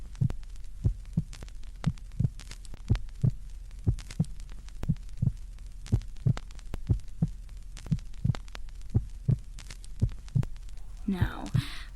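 A slow, steady heartbeat thumps again and again as a sound effect in a horror story, with soft rustling near the end and no talk.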